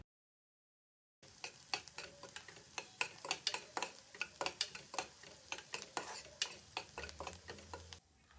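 Onions and biryani spices fry in a pan for an egg biryani, quiet sizzling under a quick rhythmic series of spoon scrapes and taps after a short silent start, no talking.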